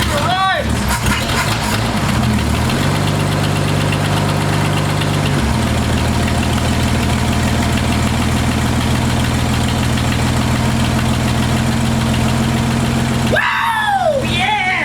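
1960 Ford F100 truck engine running after being revived, loud rough idle with a knocking vibration and shifting tone, joined by excited voices near the end.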